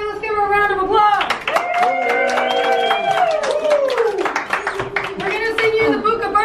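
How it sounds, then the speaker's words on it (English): Restaurant diners at Buca di Beppo clap and whoop for a woman's 30th birthday. Loud cheering voices sit on top of a patter of scattered hand claps that runs throughout. "Let's give her a round of applause."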